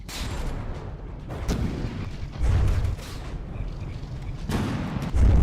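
Warship cannon fire in the naval combat game From The Depths, several heavy booming shots at irregular intervals over a rumbling battle background, loud and close with no talk.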